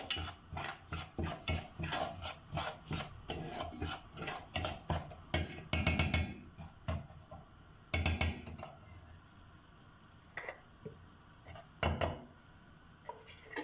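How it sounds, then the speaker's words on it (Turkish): Tarhana soup mix being stir-roasted in a pan, a utensil scraping and clinking against the metal in quick repeated strokes, loud and close, then slowing to scattered taps and stirs. "Bunu güzelce şöyle kavuruyorum."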